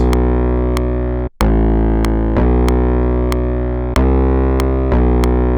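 Droning synthesizer sine waves modulated by low frequency oscillators, with dense harmonics, sharp clicks recurring at a steady rhythm, and a brief dropout near the start; loud, no voices.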